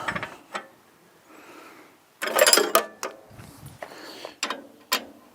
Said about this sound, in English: got to remove this bolt